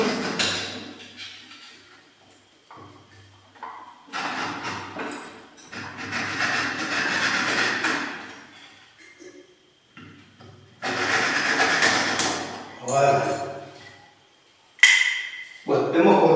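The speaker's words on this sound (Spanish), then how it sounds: "Hagamos la sierra, vamos a cortar" A hand saw cuts through a cane stalk while a quena flute is being made, with repeated bursts of rasping strokes separated by short pauses, fairly close.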